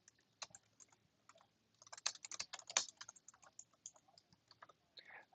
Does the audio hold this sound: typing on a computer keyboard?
yes